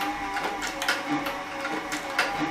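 A Cowboy CB3200 heavy-duty leather sewing machine, a saddle and harness stitcher, stitches flip-flops in a regular rapid thumping rhythm, close and moderately loud with no voices.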